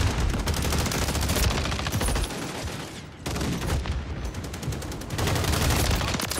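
Turret gunfire in a video game, long rapid automatic bursts of shots, loud and close, with a brief pause midway before firing resumes.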